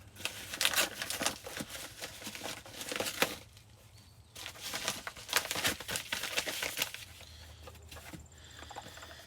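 Cardboard packaging of an Asher Knife Co. knife box being cut open, heard as close crinkling, tearing and scraping bursts with brief pauses between them.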